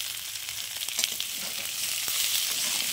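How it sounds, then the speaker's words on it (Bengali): Potato pieces sizzle in hot oil in a pan with salt added, giving a steady bright crackle with scattered pops and a faint scrape of stirring near the end. "আলুটাকে একটু তেলে একটু ভেজে নেব"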